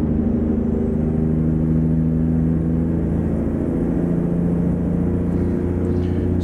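Big rig diesel engine droning steadily while downshifting to 12th gear in American Truck Simulator, a constant low rumble with sustained engine tones, close and alone without talk.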